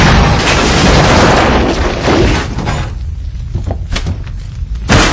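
A movie explosion roars as a loud, sustained broadband blast that rumbles on for several seconds, then settles into scattered debris crashes and a final heavy thud.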